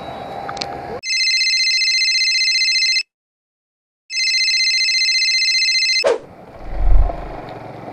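Phone ringback tone on an outgoing call made during a rainy-season motorbike ride near Sasunavghar, between Thane and Mumbai: two long steady tonal rings, each about two seconds, separated by a pause, loud and clear, followed by rustling and a low thump.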